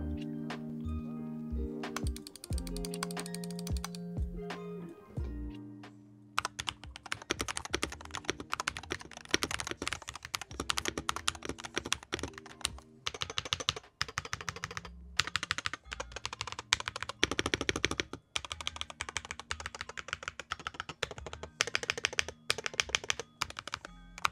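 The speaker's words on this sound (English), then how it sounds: "now we're going to do a quick sound test of this keyboard" Fast typing on a Monsgeek FUN60 Pro Hall effect mechanical keyboard: dense, crisp clacks in steady bursts with short pauses, close and clear, no voices.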